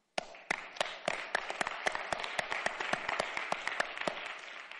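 Audience clapping at a talk, scattered claps spread across the room, moderately distant, with no voices over it.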